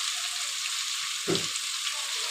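Onion, chilli, tomato and ginger garlic paste frying steadily in a pan, a continuous bright sizzle with one short low thump of stirring partway through.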